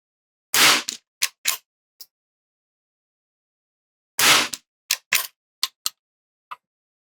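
A .22LR rifle loaded with CCI Quiet ammunition fires outdoors. There are two loud, sharp cracks several seconds apart, and each is followed by a quick scatter of fainter clicks and echoes, with silence in between.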